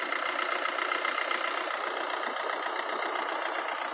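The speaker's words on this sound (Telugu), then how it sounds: "ఇంజన్ చాలా సైలెంట్ ఉంది." A 2017 Maruti Swift Dzire VDI diesel engine idles in a steady, quiet hum, heard close and alone with no voices.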